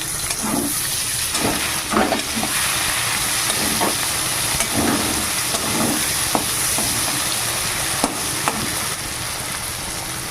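Chopped onion, chilli and tomato frying in a pan, a steady, loud sizzle that runs throughout with occasional stirring knocks close up and no speech.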